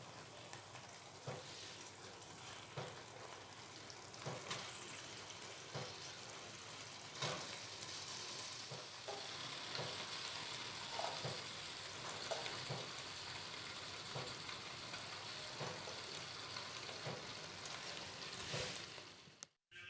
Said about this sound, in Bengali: এবারে আলু মশলার সাথে এই পেঁপে ও ছোলাটাও খুব ভালোভাবে কষিয়ে নেব